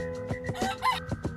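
A rooster crows close and loud, with a strained cock-a-doodle-doo call over a run of short clucking notes from farm fowl, and no talk.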